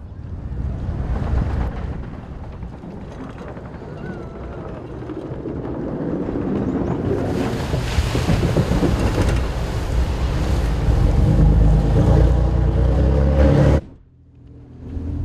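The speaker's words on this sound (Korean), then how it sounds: "구조보트가 빠르게 출동합니다." An orange lifeboat rescue boat speeds out to sea with a roaring engine that builds to a loud, steady drone amid wind and water noise, then cuts off abruptly near the end.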